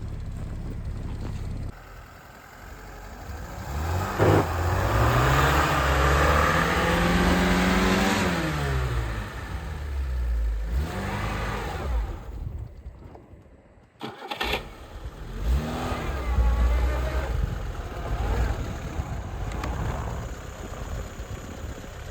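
A Lada Niva's engine revs hard and repeatedly while the car struggles through deep snow, rising and falling in pitch, loud and close, with a brief drop out midway before revving resumes.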